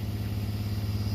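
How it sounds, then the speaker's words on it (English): A car engine idles steadily just after being recovered from hydrolock, with water cleared from its cylinders. The close, even rumble pulses smoothly with no knocks or misses and no voices. "Engine doesn't sound to be too hurt, or doesn't sound hurt."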